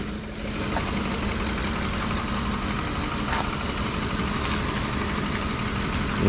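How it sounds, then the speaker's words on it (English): A Ford 5.4L Triton pickup engine, overheating, idling at close range, a constant low rumble with a faint hum and occasional light ticks, no talking. "No extreme engine noises yet."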